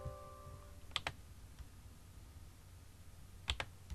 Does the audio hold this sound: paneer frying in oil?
no